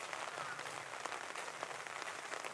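Steady rain falls at Odawara Castle, a dense even hiss of drops pattering on surfaces with nothing else heard.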